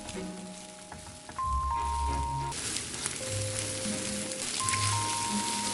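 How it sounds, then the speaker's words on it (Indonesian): Sliced meatballs and eggs sizzle steadily in a pan as they are stirred into scrambled eggs, a continuous close frying hiss with faint musical tones in the background. "Aduk pelan-pelan sampai jadi telur orak-arik"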